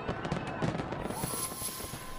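Fireworks for a Fourth of July celebration go off in a rapid run of cracks and pops, loud and close, followed by a steady hissing crackle that fills the rest of the moment.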